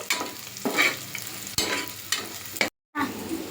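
Chicken biryani masala frying in a pan while being stirred: a steady close sizzle with repeated scraping stirs of the spoon, loud and continuous apart from one brief break.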